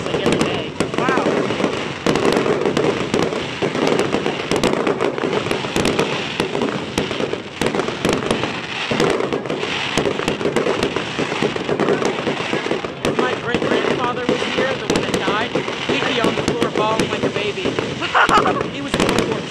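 Midnight fireworks going off in a dense, continuous barrage of crackling bursts and pops, loud and close throughout, with people talking and exclaiming beneath the racket.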